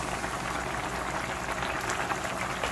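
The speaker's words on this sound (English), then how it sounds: "So keep sauteing it, otherwise it will stick to the bottom." Snake gourd sautés in ghee in a pan for payasam, producing a dense, even sizzling hiss that continues steadily and close up, with no voices.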